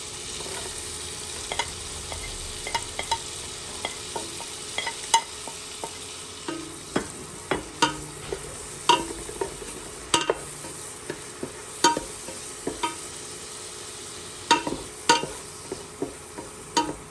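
Garlic frying in a pan, a continuous sizzle broken by frequent sharp crackles and pops, close and fairly loud, with no talking.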